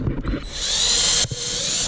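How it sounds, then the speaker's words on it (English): A power drill bores a hole through a Hasport engine mount bracket for a 1992–2000 Civic H22 swap, a steady high whine held close and loud for about a second and a half after a brief start. "now once this hole has been drilled the whole way through"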